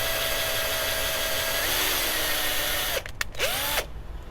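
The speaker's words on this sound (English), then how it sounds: "when you go to drill through this, just be very careful." A power drill whines steadily as it bores through a plastic rear hatch handle on a Buick Roadmaster wagon, then cuts off with a few short bursts near the end.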